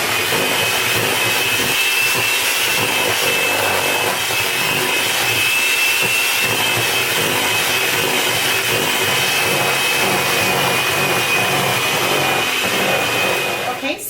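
Peach cake batter of wet and dry ingredients is mixed in a bowl, with a steady, close whirring and a constant high whine running unbroken for about fourteen seconds, no voices.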